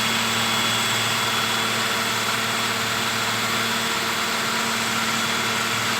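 A 2010 Nissan Livina's engine holds steady at about 2000 RPM, a loud, constant hum with even vibration and no change in pitch, heard alone with no talking.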